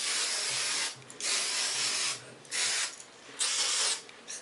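Oil sheen sprays onto hair in four or five bursts from an aerosol can, each a loud, close hiss of about a second separated by short pauses.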